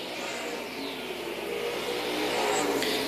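Stock cars in a Grand National Super Series race at Tri-County Speedway, a continuous roar of engines at a distance that swells slightly louder toward the end, with no voices over it.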